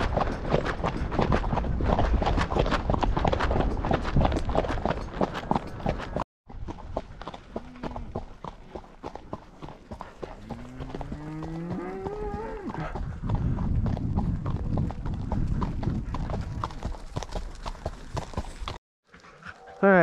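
Horse hooves clop in a steady, rapid rhythm while riding up a canyon on a ranch, close and continuous, with cattle lowing in drawn-out moos partway through and brief pauses in the hoofbeats.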